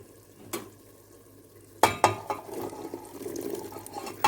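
Chickpeas and meat cook in a pan with a low sizzle, broken by sharp clacks of a utensil stirring against the pan, close up and with no voices.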